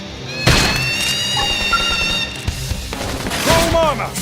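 Bursts of gunfire in Xenoblade Chronicles X Definitive Edition, with sharp impacts and whooshing effects, layered under game music and sound effects, fairly loud throughout.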